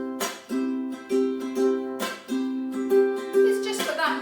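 Ukulele island strum pattern with a percussive muted chuck on the second downstroke, bright chords repeating in a steady rhythm, close and clear with no talking.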